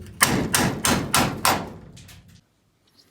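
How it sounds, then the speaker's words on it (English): Five sharp metallic blows of a hammer on a cold chisel knocking off rivets, in steady rhythm, close and loud, then a short quiet pause with a faint tap at the end. "The small rivets that are left from the ply cladding are best removed just with a cold chisel and a hammer."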